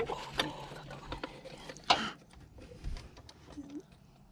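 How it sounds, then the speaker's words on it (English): Ratchet working on thermostat bolts of a Mazda 3, with faint irregular mechanical clicks and one sharper metallic clack amid quiet garage background. "So now we'll take those 3 bolts that hold the thermostat on, remove those"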